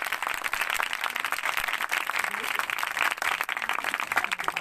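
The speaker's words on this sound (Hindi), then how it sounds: "तो इन दोनों बच्चों के लिए हम जोरदार तालियां बजाएंगे" A congregation at a Christmas church service applauds two children after a musical performance, a steady, moderately distant clatter of many hands lasting the whole stretch, with some voices in the mix.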